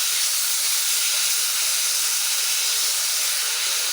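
Chopped tomatoes and onion fry in a pan for a ridge gourd curry, producing a dense, steady hiss of sizzling that stays loud and unbroken from start to finish, with no voices.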